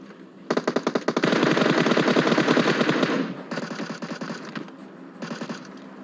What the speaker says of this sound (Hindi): कोई तो यहाँ पे MK14 चला रहा है।